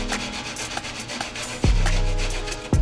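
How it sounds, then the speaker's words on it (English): Cauliflower is scraped against a hand grater for a pizza crust in quick rasping strokes, close and loud, with a couple of heavier thumps. "we're gonna take this side and we're gonna grate it right here"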